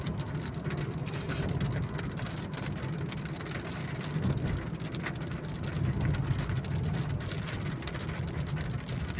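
Heavy monsoon rain falling steadily on an Islamabad road while driving, a continuous dense hiss of drops with low vehicle rumble underneath and no talking.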